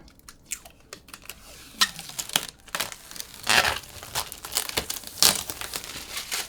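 Protective film being peeled off a component during a Lian Li O11 Vision Compact gaming PC build, heard as close crinkling and tearing rustles in irregular bursts, with no talking.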